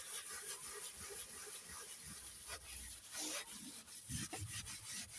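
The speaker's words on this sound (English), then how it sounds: "It just needs a good scrub." A silicone mat is scrubbed to get oil off, making a close, continuous rubbing and scouring sound in quick back-and-forth strokes, with no talking.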